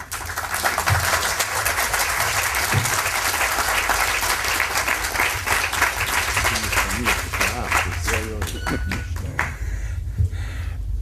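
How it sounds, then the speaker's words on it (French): Sustained, dense applause from an audience at a gathering honouring Warsaw ghetto uprising fighters, greeting one of the fighters. It stays steady and loud throughout, with a voice surfacing briefly near the end. "je vous demanderai de l'applaudir"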